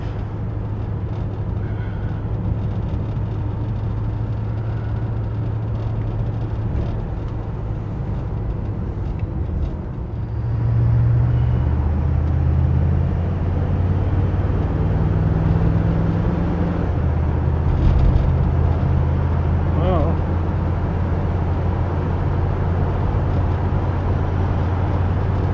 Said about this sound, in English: We're going to take the 55 down the freeway so you can see it going down the freeway.